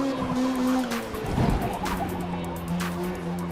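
A car in Forza Motorsport braking late into a corner, with a sustained engine drone and a tire skid rising in the middle, fairly quiet and with no talking.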